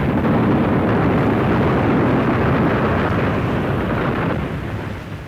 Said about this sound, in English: there was a terrific explosion, the flash lighting up the night sky